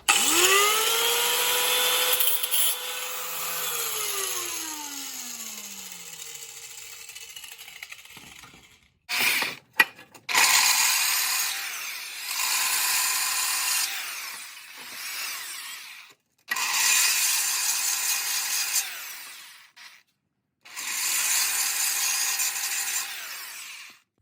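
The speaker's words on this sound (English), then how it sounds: "I actually ended up using the sander instead of the grinder because it was working better for this" A power sander smoothing a welded part for a CR125 motorcycle project, a whining high motor run in several bursts separated by pauses, starting with a spin-down, close and alone.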